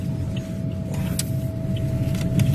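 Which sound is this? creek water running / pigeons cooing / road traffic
road traffic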